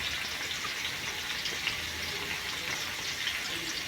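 Garlic frying in two teaspoons of oil for a tomato chutney, a steady soft sizzle and crackle that holds evenly throughout with no speech.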